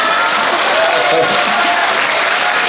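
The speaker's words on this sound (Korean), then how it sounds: "우리 서정호 변호사님한테 큰 박수 한번 주십시오" An indoor audience at a book concert gives sustained loud applause, a dense wash of clapping that holds steady throughout with a voice faintly mixed in.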